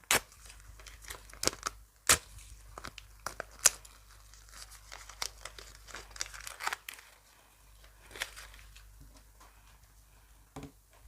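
Sharp crinkling and tearing of a paper surprise packet, with irregular crisp snaps and rustles close by, then quieter handling toward the end.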